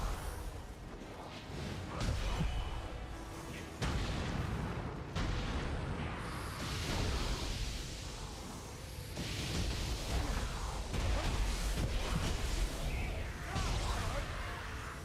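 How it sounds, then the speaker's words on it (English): Vents exploding in the action game Nioh 3, a dense run of loud booming blasts and crackling bursts over about fifteen seconds, with heavy rumble throughout and faint talk underneath. "these vents, they explode, right?"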